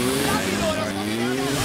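A motorbike engine in the video game A Way Out, a continuous throaty drone with rising and shifting pitch as it accelerates, loud and close, with a voice talking over it.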